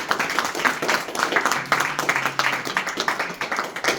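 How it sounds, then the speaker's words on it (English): Audience clapping at a Sea Scout ship's Bridge of Honor ceremony, a moderate crowd applauding steadily and irregularly for a few seconds, fairly close, with a low hum in the background. "And our amazing audience, give them a big round of applause."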